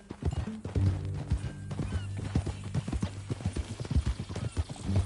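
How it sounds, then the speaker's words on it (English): In Red Dead Redemption 2, a horse's hooves clip-clop in a steady walking rhythm, with neighs and whinnies breaking through near and clear over quiet surroundings. "That a new horse?"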